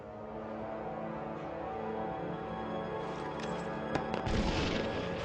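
Grenade explosions in an iPad video game, heard as faint sharp blasts and a rumbling burst late in the clip, set against a steady bed of game background sound.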